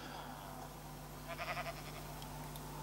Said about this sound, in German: Ein Schaf. Schwarzes Schaf. Gesellt sich zu mir.